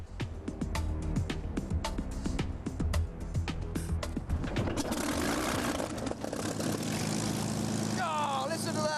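A Supermarine Spitfire's piston engine coughs into life with a run of sharp, uneven pops and bangs, then catches and settles into a loud, steady, even propeller drone, with a brief whistle near the end.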